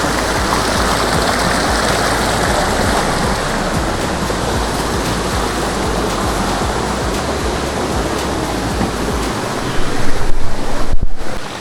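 A continuous roar of rushing water in a large forest mixes with gusting wind buffeting the microphone, growing louder and rougher near the end.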